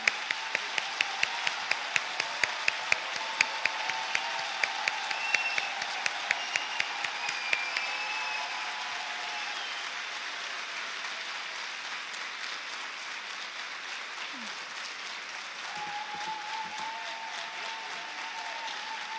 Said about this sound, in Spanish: Por ahí escuché algún aplauso que quiere espontáneamente manifestarse.